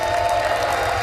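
An audience at a live stage show claps loudly together, a dense, steady burst of applause with a faint crowd murmur beneath it.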